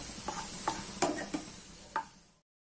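Dried raisins fry in a pan for rava laddu: a soft sizzle runs under five or six light spatula taps spaced about half a second apart before the sound cuts off.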